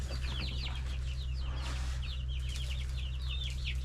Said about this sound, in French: Donc ça c'est des poulets aussi.